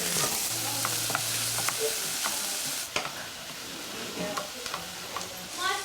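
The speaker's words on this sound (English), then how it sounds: "Frying, you know. Just seeing it bubble." Food frying and being stirred in a saucepan, likely with rice, chilli, garlic and ginger on hand: a steady close sizzle with repeated scraping, clattering stir strokes throughout, no talk.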